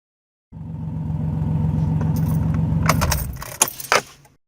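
A car engine idles with a low rumble, then cuts off, followed by a sharp jingle of keys near the end.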